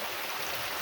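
Water flowing at a waterfall in Uvas Canyon, a continuous broad rushing roar, fairly loud and steady with no other sounds.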